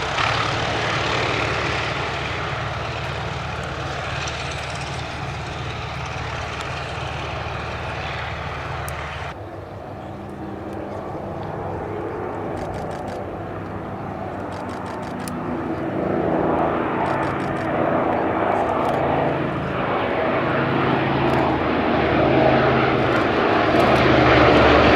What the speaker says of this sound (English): Anson going off first, followed by the two Gladiators.